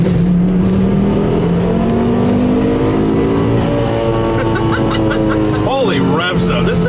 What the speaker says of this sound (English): This thing revs all the way to 8?